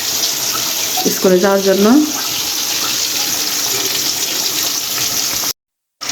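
Water pours steadily from a tap as someone washes their face at a sink at home, a constant splashing flow with someone speaking briefly over it and the sound cutting out near the end.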